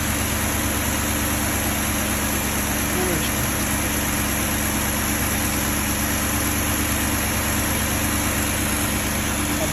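BMW M62B35 V8 engine idling while warming up, a steady, close, continuous low rumble with an even hum throughout.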